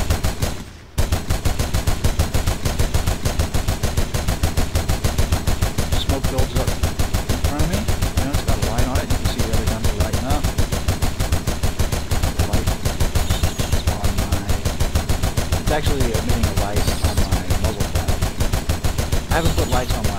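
Mounted machine gun in an Unreal Engine 4 game firing in one long, unbroken rapid burst that runs loud and dense for nearly twenty seconds after a brief pause at the start, with no other sounds breaking through.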